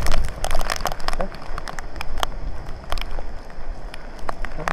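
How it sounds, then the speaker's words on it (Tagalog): Heavy rain falls during Typhoon Carina in Taiwan, a dense patter of drops with sharp splashes and gusty noise close by, while a voice speaks over it. "Kasi ang lakas ng ulan."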